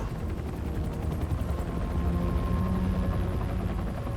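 Helicopter in the Marvel's Spider-Man 2 video game, a steady loud rotor and engine drone with dense low thumping that holds throughout with no talk.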